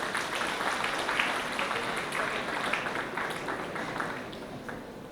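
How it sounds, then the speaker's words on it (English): Applause from a seated audience at a school Model United Nations welcome ceremony, a steady wash of many hands clapping at moderate volume throughout, slowly fading a little near the end. "So we should applaud loudly because you're welcoming"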